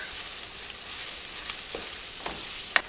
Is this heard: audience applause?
no